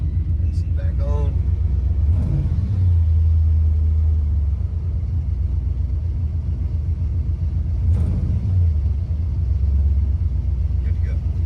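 An idling car engine fitted with Holley EFI runs with the air conditioning on, giving a steady low rumble throughout. Brief voices cut in over it now and then.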